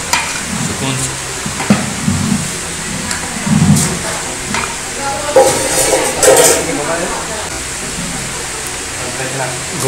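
Haleem is stirred slowly in a large pot, a continuous thick churning and bubbling sizzle with irregular scraping swells, close and fairly loud, with a voice talking over it at times.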